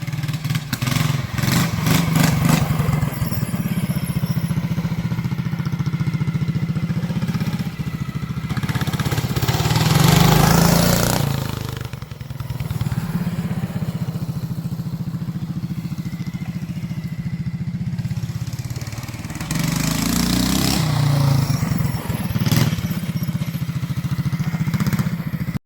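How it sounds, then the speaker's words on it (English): A mini bike's small engine runs steadily after carburetor and float adjustment, a loud continuous buzzing drone with some clatter and brief dips and swells in revs, alone without talk. "this is our first iteration of tuning the carburetor, and with our first float adjustment. Seems to be running way better now."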